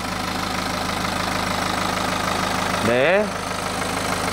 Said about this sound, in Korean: 엔진 소리 들어보시죠.